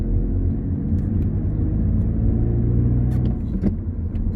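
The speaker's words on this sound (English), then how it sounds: "So the car pulled away very nicely there." A petrol Mini Countryman 1.6 Cooper with manual gearbox pulls away, its engine rumbling low and steady, heard from inside the car, with a few faint clicks near the end.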